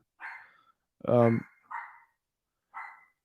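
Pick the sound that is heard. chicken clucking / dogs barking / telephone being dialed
dogs barking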